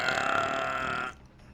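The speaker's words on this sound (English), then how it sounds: "That sounded like a harmonic belch." A single loud, harmonic belch with a buzzing, pitched tone that holds steady for about a second and then cuts off.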